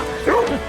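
A single short, excited bark-like yip from a dog, close and brief.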